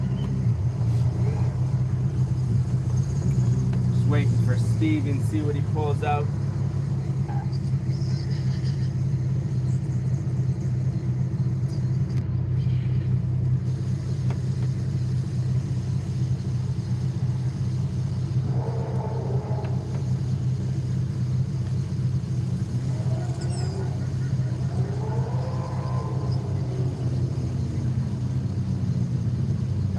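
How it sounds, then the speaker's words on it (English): A VQ-engined car idles with a deep, steady rumble throughout in Forza Horizon 5, close and constant, while someone talks briefly over it and other faint engine revs rise and fall in the background. "I love this car, man. This thing sounds so good right now."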